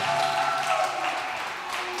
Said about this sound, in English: bring him on with a loud round of applause